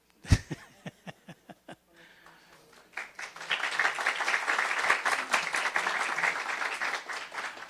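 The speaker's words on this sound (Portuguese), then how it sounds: "Podem aplaudir" A lecture audience applauds an event organizer at a Médecins Sans Frontières talk: a few slow, separate claps at first, a pause with faint murmuring, then full, sustained crowd applause with some laughter.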